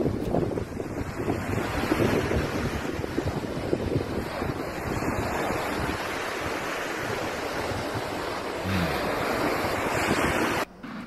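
Sea waves wash onto a Greek beach after a wildfire burned down to the shoreline, with a continuous surf roar and heavy wind buffeting the microphone.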